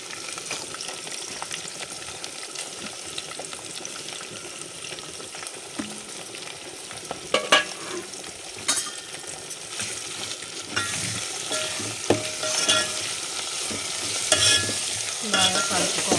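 Onions, green chillies, coriander and mint are stirred in a hot pan for a country chicken curry. They sizzle steadily, with scraping spoon strokes and occasional clinks, up close and with no talking.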